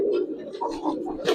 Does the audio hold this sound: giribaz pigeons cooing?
yes